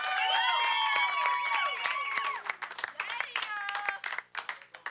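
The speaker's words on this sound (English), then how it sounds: "so everyone give him a round of applause." A late-night show audience at Ball State cheers and whoops, then claps in a thinning round of applause with distinct individual claps near the end.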